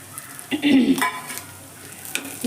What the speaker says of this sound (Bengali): দেখুন বাদামগুলো আমার প্রায় ভাজা ভাজা হয়ে এসছে